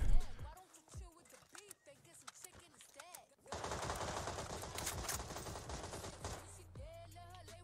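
AKM rifle fire in the video game PUBG sounds as a dense rattling burst of rapid shots partway through. Someone talks excitedly before and around the gunfire.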